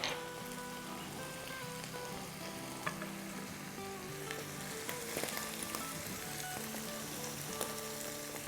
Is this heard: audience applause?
no